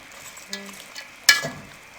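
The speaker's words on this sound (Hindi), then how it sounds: "अब इसको हम अच्छे से मिक्स करेंगे।" Chopped cabbage and vegetables stirred in a cooking pot for chicken vegetable macaroni, a faint sizzle with two quick scrapes, the second a sharper clatter, close by and without talk.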